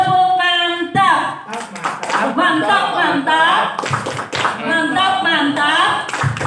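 A group claps in a quick rhythmic pattern, loud and close, with voices speaking and chanting between the claps.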